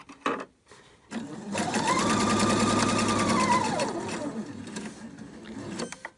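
A sewing machine stitches bias tape around a pocket, running in one fast, buzzing burst of a few seconds, with quieter handling sounds before and after.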